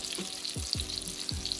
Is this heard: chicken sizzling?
yes